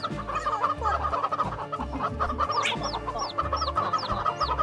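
Chickens cluck repeatedly in a busy, close mix, with short rising calls recurring every half second or so over a low rumbling background.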